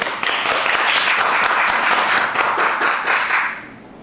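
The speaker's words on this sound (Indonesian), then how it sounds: "Tepuk tangan semuanya pemirsa pada tamu kita yang paling agung pada malam hari ini." Audience applause for the honoured guest, Romo Kiai Khalid Junaidi, at an evening gathering: a loud, dense, continuous burst of clapping that swells, holds, then fades near the end.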